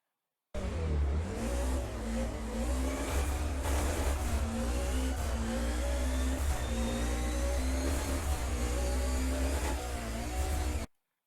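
Race car engine in the Assetto Corsa racing game on the Hakone Nanamagari course, revving hard and steadily for several seconds with shifting pitch, loud and alone before cutting off.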